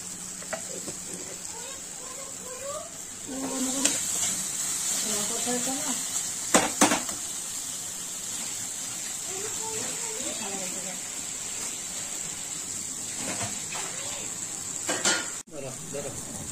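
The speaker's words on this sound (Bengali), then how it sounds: "এবার আমি দিয়ে দেবো কয়েকটা কাঁচা লঙ্কা দিয়ে আবার একটু নেড়ে নেব।" Chicken masala with green chillies being stirred in a hot pan, a steady sizzle under repeated scraping and clinks of a spatula, with a few louder knocks.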